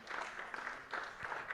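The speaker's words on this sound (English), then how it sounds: "let's clap for Brian for that input" A youth conference audience claps for a speaker in a short, quiet burst of applause, with an uneven patter across the hall.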